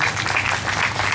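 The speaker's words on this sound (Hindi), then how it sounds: "तालियां हो जाए।" Listeners at a Narmada Purana recitation in a Mahavir temple break into applause, a brief, loud, steady patter of many hands clapping close by.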